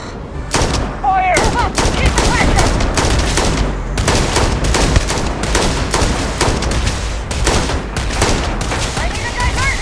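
Rapid bursts of gunfire from the video game Starfield crack repeatedly and loudly throughout, dense volleys separated by brief gaps, with game voices and effects mixed in.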